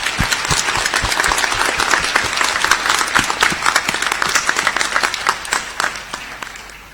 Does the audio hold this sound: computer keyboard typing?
no